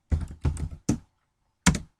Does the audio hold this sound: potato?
no